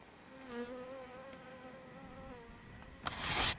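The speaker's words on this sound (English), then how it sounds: "Those flies are the loudest thing around." Flies buzz close by near an old homestead in the Arizona backcountry, a steady droning hum with wavering pitch that swells and fades for a few seconds before a loud rushing burst of noise cuts in at the end.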